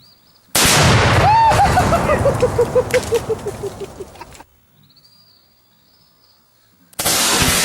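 A loud homemade explosive detonates outdoors with a sharp blast, followed by a few seconds of decaying rumble and scattered debris pops, then near silence before another loud burst at the end.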